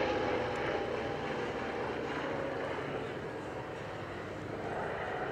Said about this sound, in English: Now listen to the Curtis Wright R3350 engine